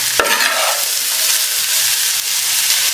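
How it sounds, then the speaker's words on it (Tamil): Mint leaves stirred in a hot frying pan while making a mint chutney, giving a steady close sizzle with a sharp scrape of the spoon near the start. "போட்டுட்டு அந்த டயத்தில் இந்த புதினாவையும் போட்டுருங்க. போட்டு ஒரு கிண்டிடுங்க."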